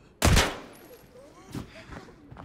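A single loud M16 burst in the tactical shooter Arena Breakout opens with a heavy close report and a ringing decay, followed by fainter distant shots and scattered game noises.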